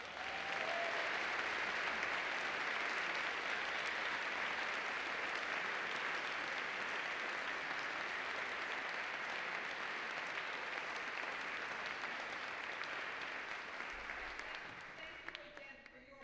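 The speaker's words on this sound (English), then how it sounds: "I'd like to ask you to have another round of applause for this remarkable panel." Long, steady round of applause from an audience for a panel after a women's history roundtable discussion, dense, even clapping sustained throughout and thinning slightly at the end.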